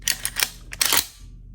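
A Remington 870 pump-action shotgun is racked up close: two sharp bursts of metallic clacks, back then forward, followed by quiet.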